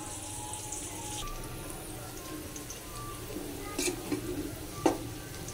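Onions fry in a pan with a soft, steady sizzle. A few brief clinks and scrapes of stirring come near the end.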